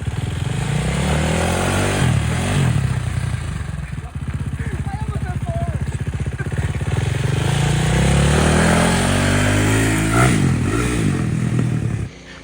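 A home-built Amish-style buggy powered by a KTM 450 engine, revving hard and loud throughout with a steady rising drone, scrapes and clatter on top, and people talking over the engine.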